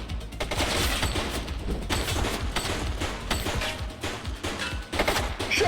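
Dense, continuous gunfire in the video game The Precinct, many overlapping shots forming a loud sustained fusillade with chaotic combat noise throughout.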